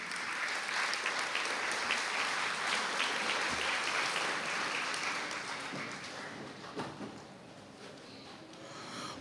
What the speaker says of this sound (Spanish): despedirlo con el aplauso de todos los presentes